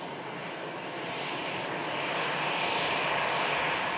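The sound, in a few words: airliner landing at Manchester Airport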